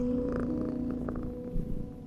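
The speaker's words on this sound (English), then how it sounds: "Oh, hey, kitty, you're back." Cat purring in a horror video game, a steady low rumbling hum that carries on continuously at moderate level with a few faint game sounds over it.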